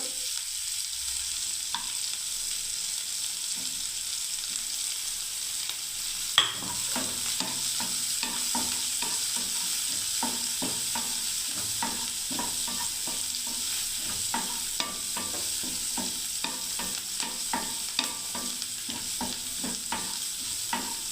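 Green chillies frying in hot oil in a pan for spicy semolina: a quiet start, then a steady, close sizzle with frequent small stirring scrapes and pops, no voices.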